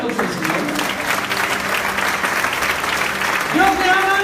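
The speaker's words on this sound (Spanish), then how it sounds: "Denle un aplauso al Señor." A church congregation bursts into loud, sustained applause, a dense clatter of many hands with voices talking and calling out over it.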